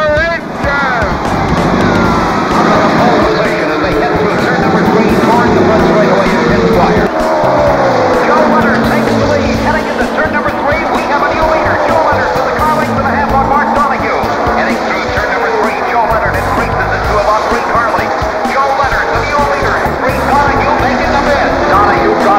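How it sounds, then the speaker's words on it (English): IndyCar race car engines starting and racing at a U.S. auto race, a loud, continuous multi-engine roar with rising and shifting pitch, heard under a commentator talking throughout. "Gentlemen, start your engines!"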